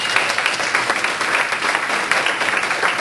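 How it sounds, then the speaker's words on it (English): A seated audience at a small business expo workshop breaks into sustained applause, dense and steady clapping lasting several seconds with no talking over it. "Big round of applause."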